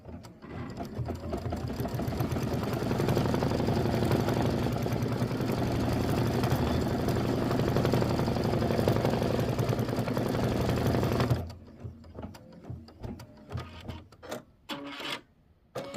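A sewing machine stitches the tack-down on a Kimberbell mini quilt lemonade block, running in a fast, steady whir for about eleven seconds, then stopping and giving a few short bursts.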